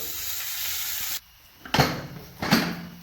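Mustard seeds, dried chilies, crushed garlic and curry leaves dropped into hot oil for a Kerala-style tempering, a steady hiss that cuts out, then two loud crackling bursts of sizzle close by, with no talk.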